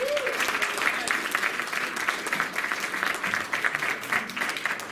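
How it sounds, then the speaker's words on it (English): Audience at a town hall meeting in a VFW hall in Canton, Ohio claps in sustained applause, a dense steady patter of many hands lasting throughout. "A round of applause"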